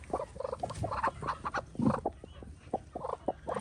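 A chicken clucks in quick, choppy bursts close by, with a busy, fluttering rhythm throughout.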